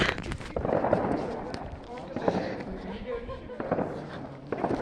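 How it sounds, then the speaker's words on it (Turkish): Fireworks set off at home: sharp crackling bursts and pops in quick irregular clusters, fairly close, with a person talking over and between them. "Anne evde havai fişe patlatıyorlar."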